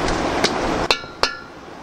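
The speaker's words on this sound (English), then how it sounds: "beating on it with a metal hammer" Three sharp metal hammer strikes land on a VW Type-4 1700cc engine head from a bus during a teardown, spaced irregularly over a steady background hum, each impact ringing briefly with a bright metallic clang.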